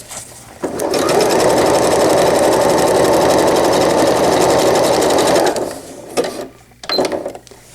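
A sewing machine stitches fold-over elastic binding onto a diaper cover, running in one loud, steady burst for about five seconds, then stopping for a few short, separate clicks and handling sounds.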